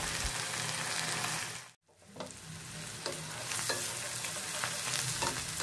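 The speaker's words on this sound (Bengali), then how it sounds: "হাফ কাপ পরিমাণ সরিষার তেল গরম করে অ্যাড করে দিলাম এক কাপ পরিমাণ পেঁয়াজ কুচি আর পেঁয়াজ পাতা" Chopped onions and onion greens with whole green chillies fry in hot mustard oil, giving a loud, steady sizzle with stirring scrapes and a brief drop in the middle.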